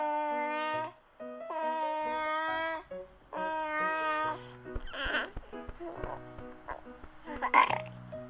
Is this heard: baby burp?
yes